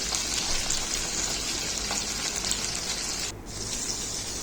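Chicken breast sizzles steadily in hot oil in a frying pan, a loud continuous crackle that briefly dips near the end, with no voices.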